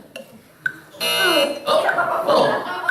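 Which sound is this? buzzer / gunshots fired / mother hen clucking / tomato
buzzer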